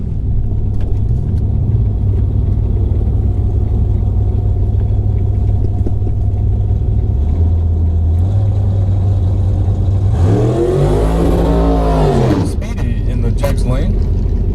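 A drag racing car at a drag strip rumbles at the line under an announcer's voice, then launches with a loud rising roar of acceleration down the track before fading.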